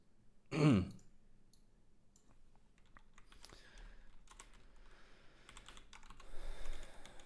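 Typing on a computer keyboard while coding: a quick, loud burst of keystrokes up close, then scattered soft clicks, and another flurry of keys at the end.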